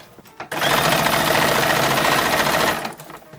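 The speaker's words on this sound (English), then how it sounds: "sleeves are getting sewn into the arm size" A sewing machine sews sleeves into the armholes of a 1910s–1920s style toddler summer dress, running in one loud, steady, close whirring burst of a little over two seconds before stopping.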